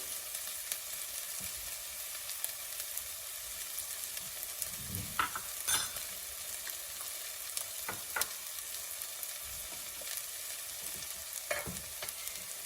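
Spices with turmeric and hing roast in hot oil in a pan, a constant close crackling sizzle with a few sharper scrapes and clicks of stirring scattered through, no one speaking.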